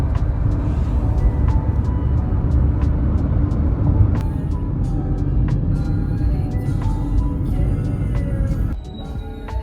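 Steady roar of morning road traffic in Bocaue, Bulacan, with cars, buses and trucks passing close by, broadband engine rumble throughout and occasional sharp clicks, easing slightly near the end.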